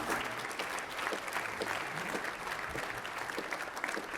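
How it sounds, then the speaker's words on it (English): A room of luncheon guests applauds an award honoree at a Good Scout Award event, steady, dense clapping that holds at an even level throughout. "Another big round of applause for our honoree here."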